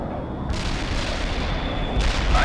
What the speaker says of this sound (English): Fire mission received. Artillery barrage inbound.